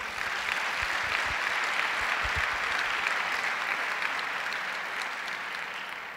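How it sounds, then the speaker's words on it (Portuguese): Steady applause from a church congregation during a worship service, sustained and even from start to finish with no talk over it. "Dá um aplauso ao Senhor."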